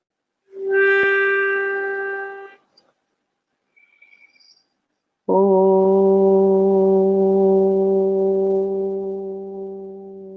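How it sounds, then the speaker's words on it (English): Voices chant a sustained Om in a group, a deep steady drone held for about two seconds, then after a quiet gap a second, lower and fuller Om swells and holds for about five seconds. "As we sound the Om, let us visualize that sound having a blue color"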